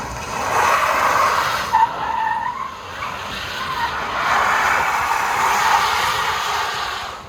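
Tesla-swapped Chevrolet C10 squarebody truck doing burnouts at a festival of speed, loud continuous tire squeal and skidding that wavers in pitch, with a brief sharp chirp midway and a second surge of screeching later.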